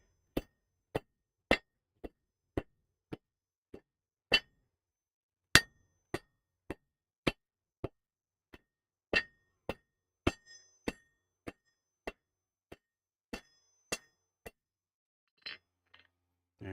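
Hammer forging a taper on hot metal in a smithy: a steady series of sharp, ringing metallic strikes about one every half second, with short pauses, clear and close with no talk.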